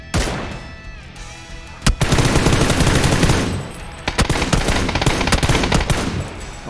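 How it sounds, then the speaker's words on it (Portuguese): Rapid automatic gunfire from the Valorant video game rattles in loud, dense bursts, with a sharp crack near two seconds and continuing volleys through the rest, no voices over it. "Ele tomou um tiro."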